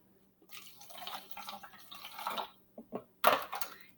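Water poured from a half-cup measure into a homemade volcano model, a close splashing and trickling flow lasting a few seconds with a short pause and then a louder final gush.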